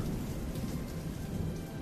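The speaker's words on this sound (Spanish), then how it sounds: "Las tormentas son un fenómeno increíble en la atmósfera." A thunderstorm rumbles with steady heavy rain and low thunder, a dense, continuous wash of sound with no voices.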